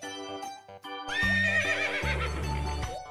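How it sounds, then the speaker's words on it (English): A horse neighs loudly in a long, shrill, quavering whinny that rises and then falls, with a few brief tonal sounds before it, close and clear. "Horse."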